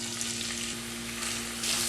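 Ginger and garlic fry in hot oil in a pan with a steady, close sizzle that keeps going throughout, over a faint low hum.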